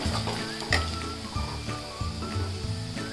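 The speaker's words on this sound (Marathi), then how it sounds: "कांदा लाल झाला आता हे सगळे मसाले टाकते परतून घेते" Spices sizzle in hot oil with browned onion for misal, a steady close frying hiss broken by occasional clinks and scrapes of stirring.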